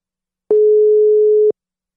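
A single steady electronic phone tone sounds for about a second between clean silence, like one beep of a ringback signal.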